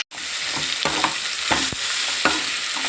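Green mango pieces and curry leaves sizzle loudly in hot oil in a rice tempering, a constant close frying hiss broken by a few stirring scrapes, with no talking.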